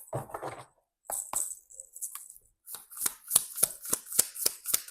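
Oracle cards being drawn and shuffled, with a burst of soft riffling at the start, brief card flicks, then a steady run of crisp, evenly spaced snaps and riffles, close and fairly quiet with no talking.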